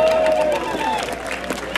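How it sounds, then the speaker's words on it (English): Audience applause at an evening social event, a steady wash of clapping from a crowd with a voice speaking over it. "Please clap your hands for yourselves"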